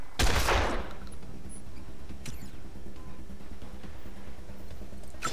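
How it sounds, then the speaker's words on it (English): A single heavy shotgun blast fires in a video game and fades quickly. A few faint clicks and small shots follow over a low background hum. "Shotguns!"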